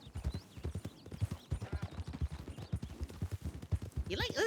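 Hooves of a dapple horse clip-clopping in a steady rhythm under continuous talk in a western roleplay game, ending with a short burst of higher, whinny-like sound.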